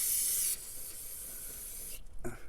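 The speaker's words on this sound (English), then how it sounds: "so let's give it a quick spray." A continuous hiss of aerosol spray for about two seconds, loud and close, during a service of a Citroen C3 Picasso 1.6 HDi, ending abruptly with a small clatter.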